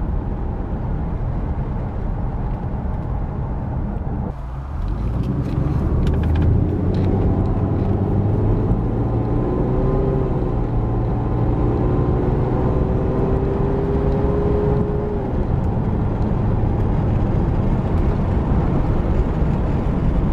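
Inside a 1996 Mercedes SL600 with the soft top up, the V12 engine hums and rises through the gear changes over a steady rumble of road and wind noise, close and continuous, with no talk.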